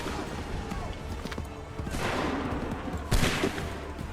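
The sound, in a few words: soldiers' gun volley on command, from video game Assassin's Creed III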